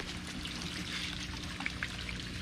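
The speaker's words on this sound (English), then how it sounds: "it's a waterfall system and a pond" Water trickles and pours from a backyard pond waterfall system, a faint, continuous splashing dribble with small scattered droplet sounds and no talking.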